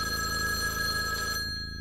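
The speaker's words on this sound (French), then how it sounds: "Gaston, il y a le téléphone qui sonne et il n'y a jamais personne qui répond" Telephone bell ringing steadily and fairly close, a bright continuous trill over musical accompaniment, cutting off near the end.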